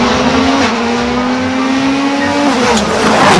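A toy race car's engine sound drones loudly and steadily, its pitch holding level then shifting near the end.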